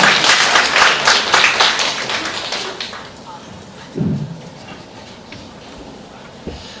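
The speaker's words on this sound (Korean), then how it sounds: "큰 영혼의 박수를 드리겠습니다." A church youth congregation applauds loudly, the clapping fading after a few seconds into quieter background murmur and a couple of low thumps.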